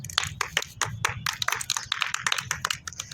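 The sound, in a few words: children clapping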